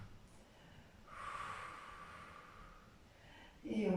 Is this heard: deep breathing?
yes